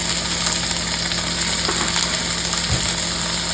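Beef with garlic stir-frying in a pan, a steady close sizzle and crackle that runs throughout with no talk.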